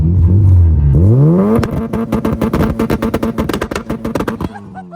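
An Acura Integra fitted with a Spoon N1 exhaust idles loudly, then revs, its pitch climbing before settling into a rapid, burbling pulse of exhaust pops, close and loud, ending abruptly.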